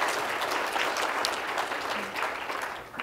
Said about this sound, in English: So please give a quick round of applause for these three very interesting people.